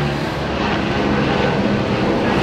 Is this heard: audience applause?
no